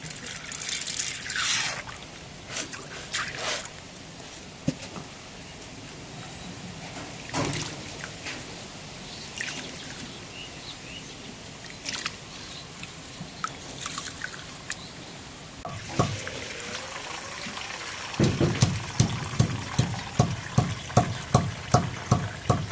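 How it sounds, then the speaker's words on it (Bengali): Rice and red lentils being washed together by hand in water, with irregular splashing and sloshing, dribbles, and toward the end a run of rhythmic swishes and knocks against the pot. "মসুর ডালটা দিয়ে একবারে ধুয়ে নেই"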